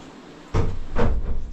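A wooden ventilation door in the Wieliczka salt mine in Krakow is pushed shut and opened, giving a sudden thudding impact followed by a second knock and rattle, close by with a steady underground wind hiss.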